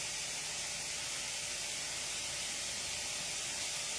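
Tomato, onion and garlic frying in a pan over a medium flame, a steady, even sizzling hiss with no talk.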